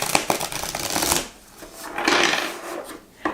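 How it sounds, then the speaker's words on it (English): Close, papery riffling and sliding of a deck of tarot cards being shuffled, in two bursts with a short pause between. "I'm just going to shuffle these a little better."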